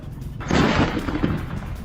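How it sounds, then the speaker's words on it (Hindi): An explosion from an Iranian ballistic missile and drone attack on an industrial area in Bahrain hits as one loud, sudden burst, then rumbles on for over a second. It is captured up close with no voices. "इंडस्ट्रियल एरिया में बमबारी, एक के बाद एक कई धमाके।"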